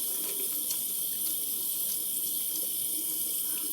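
Warm water runs steadily from a tap into a sink, a constant close rushing hiss with no pauses.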